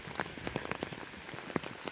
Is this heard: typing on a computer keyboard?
no